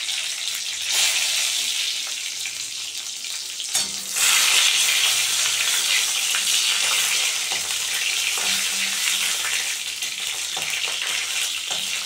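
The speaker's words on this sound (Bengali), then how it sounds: "3টে শুকনো লঙ্কা দিয়ে দিলাম ফোড়নে, আর একটা তেজপাতা" Three dried red chilies and a torn bay leaf hit hot oil as a tempering for a drumstick and prawn dish, making a loud, close, continuous sizzle that flares up sharply partway through, with no talking.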